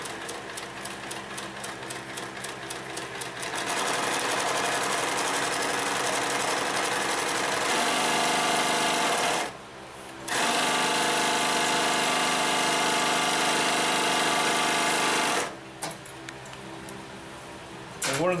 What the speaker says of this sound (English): This is a nice piece of leather here for handbags, doing belts,